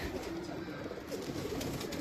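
Pigeons for sale coo softly in a low, steady murmur, fairly faint and continuous, with no talking over it.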